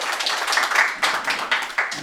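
A gathering at a toastmasters-style meeting claps for the attendees, a short spell of close, lively applause from a smaller group with some individual claps standing out.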